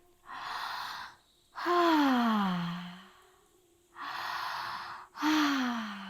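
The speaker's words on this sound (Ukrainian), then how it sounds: "Ми дихаємо через вуста і відпускаємо через вуста все." Slow, audible breaths in and out through the mouth during a guided breathing exercise, two full cycles with pauses between, the exhales voiced like deep sighs.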